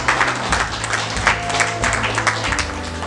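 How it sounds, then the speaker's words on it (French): An audience at a Christmas-tree event for autistic and disabled children applauds for a social affairs ministry, steady crowded clapping over a low hum with some voices. "Est-ce qu'on peut applaudir pour le ministère des Affaires sociales?"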